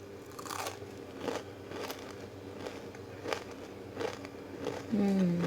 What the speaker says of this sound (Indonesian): sekarang aku mau cobain dulu ya ini sensasi kriuknya seperti apa kentang mustofa Miss NN